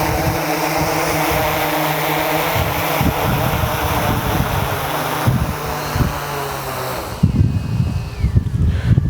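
A DJI Inspire 1 drone touches down outdoors, its propellers giving a loud steady buzzing whir that ends abruptly, leaving wind and handling noise.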